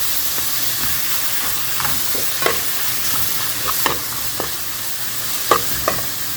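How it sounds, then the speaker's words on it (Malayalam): Tomato and onion fry for a fish curry, a steady hiss of oil in the pan running throughout, broken by scattered stirring scrapes and clicks, close and with no one speaking. "തക്കാളി ആഡ് ചെയ്ത് തക്കാളി ഒന്ന് ഫ്രൈ ആക്കി എടുക്കുക"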